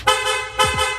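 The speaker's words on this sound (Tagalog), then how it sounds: "Sir, pa-activate naman ng loud horn mo." Loud aftermarket horn fitted to a Yamaha Sniper 155 motorcycle, two sharp blasts close by, the first long and sustained, the second shorter, bright and brassy with no talk.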